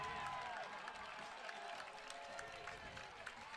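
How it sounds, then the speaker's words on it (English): A crowd at a high school football game cheers and claps in a loud, continuous wash, with a commentator talking over the noise. "And the crowd is cheering"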